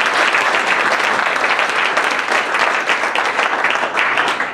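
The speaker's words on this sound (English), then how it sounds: "let's give all those folks a round of applause" Steady, full applause from a school audience honoring staff, a dense wash of many hands clapping continuously at close range for several seconds.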